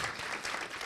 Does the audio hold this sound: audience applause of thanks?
yes